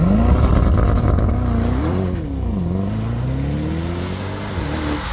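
A Mercedes AMG GT 63 Coupe accelerates with a loud, close engine note, the pitch swelling, dipping and climbing again in sustained pulls, with no voices over it.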